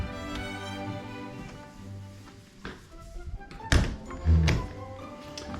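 A drawer in a Disney's BoardWalk Villas studio hotel room is pushed shut, ending in a couple of solid thunks close by, with soft background music running underneath.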